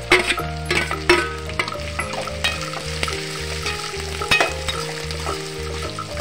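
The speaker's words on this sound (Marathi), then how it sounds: "कांदा टाकत आहे।" Chopped onion frying in a hot pan for a fenugreek (methi) vegetable dish, a steady close sizzle with repeated stirring scrapes and clinks throughout, no voices.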